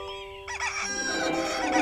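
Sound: rooster crowing

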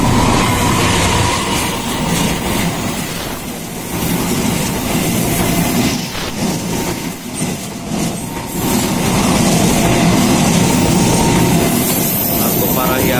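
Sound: Argo Parahyangan train passing at Sukatani station

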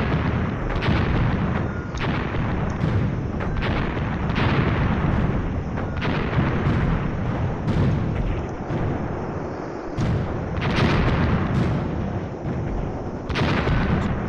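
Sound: mortar fire in video game Graviteam Tactics

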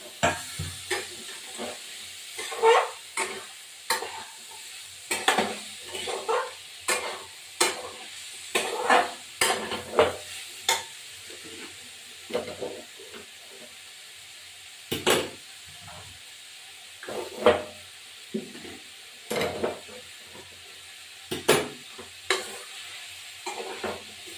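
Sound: shrimp and figs cooking in a pan

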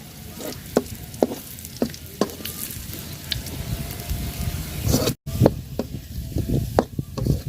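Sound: onion, garlic and dried red chillies frying

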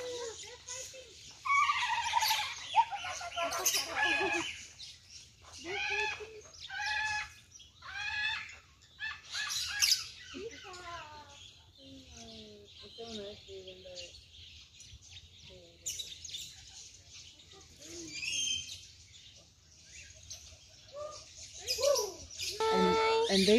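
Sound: peacock calling

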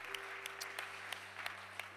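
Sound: church congregation clapping

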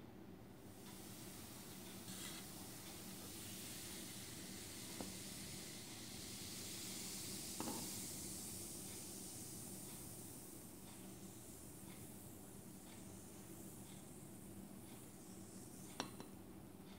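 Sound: fizzing of an acid-base chemical reaction

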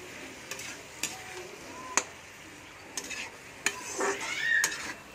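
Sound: stirring vegetable curry in a pot

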